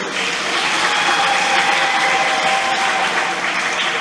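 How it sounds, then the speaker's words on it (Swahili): A church congregation at a Catholic Mass claps together in a dense, even wash of applause that holds steady for several seconds at a fairly close, loud level. "Tujipigie makofi."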